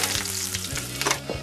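Big peppers blister in a hot pan, giving a steady, close sizzle and fry with small crackling pops, with no talk over it.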